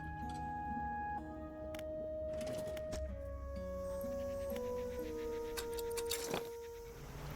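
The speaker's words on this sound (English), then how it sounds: "That's the doggy I saved." A rescued dog in a video game pants and whimpers softly beneath layered game music with sustained tones and chimes, the animal sounds faint and intermittent.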